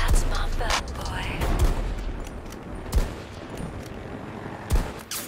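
Sniper rifle shots fired without a scope in a Battlefield video game ring out as several sharp, loud cracks spaced a second or more apart, over a busy battlefield din with other gunfire.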